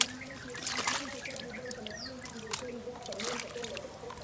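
Water is poured over toy cars and trucks to clean them, making a faint, intermittent trickle and splash. A person talks quietly at the same time.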